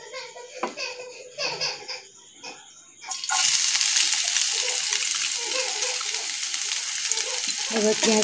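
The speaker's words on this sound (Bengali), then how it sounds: "পেঁয়াজটাকে ভেজে নিই যতক্ষণ একটু নরম হচ্ছে" Chopped onions dropped into three spoons of hot white oil in a heated pan burst into a loud, steady sizzle that fills the rest of the clip after a few seconds of quieter kitchen clatter and stirring.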